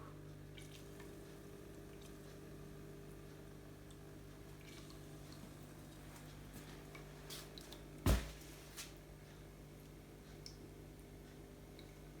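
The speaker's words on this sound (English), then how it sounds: "I've placed my little waterfalls on top." A small decorative water fountain set atop a cardboard storage unit gives a faint continuous trickle with light drips, broken once by a single sharp knock partway through.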